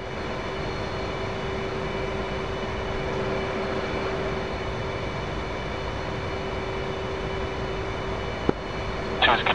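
Jet engines in the DCS World flight simulator spool up as a steady, loud broadband roar with a constant tonal whine. The sound holds even throughout, with a brief click near the end.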